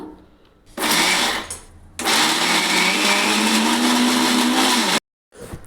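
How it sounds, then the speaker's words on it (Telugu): A mixer grinder whirs loudly in two bursts grinding moong dal batter for pesarattu, a short run then a longer steady grind, ending abruptly in silence. "ఈ విధంగా అయితే మిక్సీకి పట్టుకోవాలన్నమాట"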